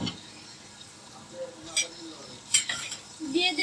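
Ginger garlic paste goes into a pan of fried onions, making a soft, low sizzle broken by a few stirring scrapes and clinks of a utensil against the pan.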